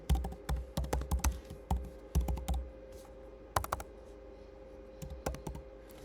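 Quick bursts of keystrokes on a computer keyboard, typed close by in uneven clusters with short pauses between words and a final few taps after a longer gap, no voices.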